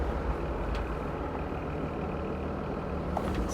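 A straight-piped, diesel-swapped Toyota FJ60 drives with a deep throaty exhaust rumble and turbo spool, a steady loud drone from inside or near the vehicle.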